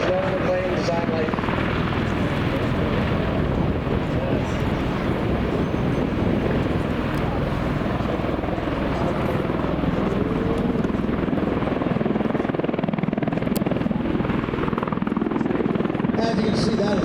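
An MV-22 Osprey tiltrotor aircraft hovers close by, its rotors pushing a loud, steady roar and heavy rotor wash, with a dense wind-buffeted rumble throughout and no pauses.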